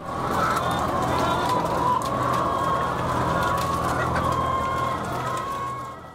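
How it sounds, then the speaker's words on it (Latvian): Hens packed into cages in huge hangar-like barns on an industrial egg-laying farm run by a large Latvian egg producer, making a dense, continuous din of clucking and crowing from many birds, loud and steady throughout with no talk. "Industriālajās fermās, milzīgās angāriem līdzīgās kūtīs, vistas pavada savu dzīvi troksnī, putekļos un smirdoņā."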